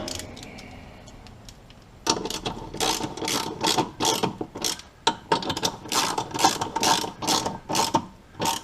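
Ratchet clicking in repeated bursts while tightening the mount bolts on a TKX transmission swap in a New Edge Mustang, close and fairly loud after a quiet start, with rhythmic pawl clatter and short pauses between strokes.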